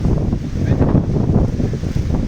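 Strong wind buffets the microphone on a hilltop during car camping, a loud, continuous low roar with gusty swells and no speech.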